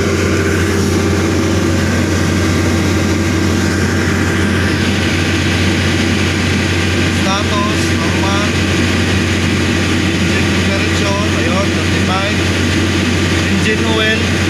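Generator set engine running steadily during warm-up, a loud constant low drone and hum close by, with faint chirps and voices in the background.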